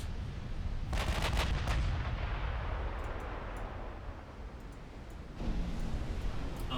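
Naval shell hits from battleships in the warship strategy game Ultimate Admiral Dreadnoughts, a dense rumbling barrage of booming impacts with sharp bursts near the start and a renewed surge toward the end, loud and continuous with no talking.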